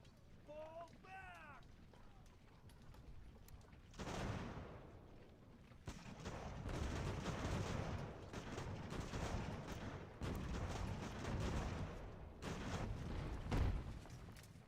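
Musket volleys and gunfire in the Revolutionary War strategy game Ultimate General: American Revolution, bursts of crackling shots and booming blasts rolling on through a battle din, with a voice briefly calling out at the start.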